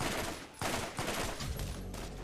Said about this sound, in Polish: Dobra, strzelam.